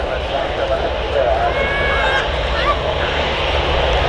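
An airliner lands at Manchester Airport, a broad steady jet engine roar heard from a spotting point, with faint whining tones and continuous background rumble throughout.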